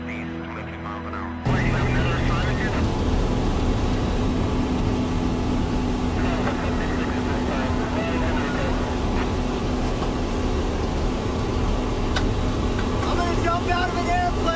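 Aircraft engine droning steadily during a skydive stunt with no parachute, a loud continuous rumble that starts abruptly after a brief quieter opening and continues under intermittent talk and radio chatter.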